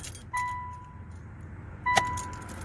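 Keys jangle briefly by the ignition of a 2006 Nissan Sentra 1.8, two short metallic rattles with a faint tone about a second and a half apart, alone against a quiet cabin.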